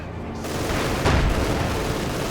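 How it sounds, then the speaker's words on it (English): A field gun fires on a Panzer IV tank in the strategy game Company of Heroes 2: one heavy, close boom lands midway through a constant rumble of battle noise. "Panzer IV on the fire from the field gun"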